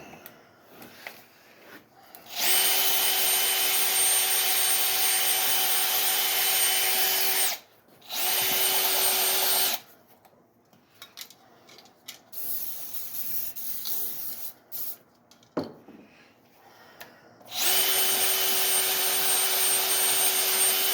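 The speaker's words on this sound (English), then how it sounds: "We are on low speed on the drill." A slow-running power drill spins an engine brush inside 5.3 cylinder heads, a loud steady whir in several bursts with quiet gaps between them.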